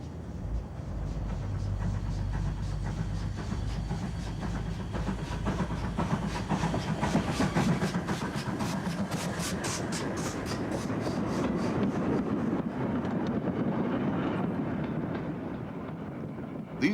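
A GWR 2251 class 0-6-0 steam tender engine, a Collett design from the 1930s, runs with a steady low rumble and hiss of steam. A rhythmic clickety-clack of wheels on rail grows through the middle, heard fairly close with no voices.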